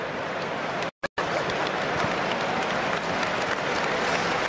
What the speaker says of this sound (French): Applaudi en tout cas par le public de Twickenham.